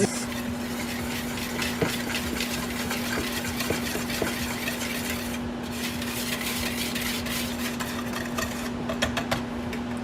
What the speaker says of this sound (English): Whisk your dry ingredients. Try and get out the clumps